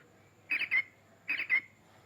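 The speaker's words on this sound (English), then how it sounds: "This is the blue bird." A Chicco Talking Farm House toy gives an electronic bird call: two pairs of quick whistled chirps, each pair evenly spaced, close and clear against a quiet background.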